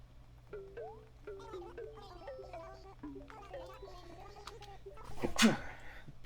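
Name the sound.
sneeze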